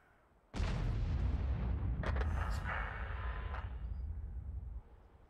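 A loud artillery blast from an S-51 self-propelled gun in World of Tanks bursts suddenly, then a long heavy rumbling roar trails off over several seconds with brief crackles mixed in.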